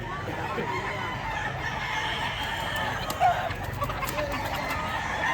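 Chickens cluck steadily in the background, with a brief louder call near the middle, over constant outdoor noise and no talking.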